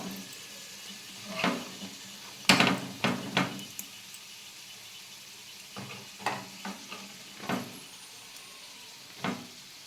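Soft frying sizzle in a pan, broken by several sharp scraping and clinking stirs of a utensil at irregular intervals.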